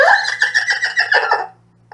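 An erhu mimics a horse's neigh with a loud, quavering whinny that trembles and slides downward for about a second and a half, then cuts off, played solo.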